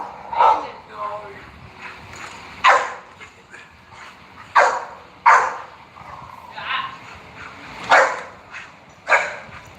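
A young puppy gives a series of short, high yips and barks spaced a second or two apart, fairly close, with some whimpering between them and faint talk in the background.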